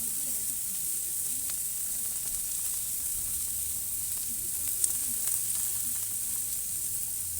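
Asparagus spears sizzle steadily on a hot grill, a constant bright hiss with faint low crackle and rumble beneath, one small pop midway, and a voice speaking softly in the background.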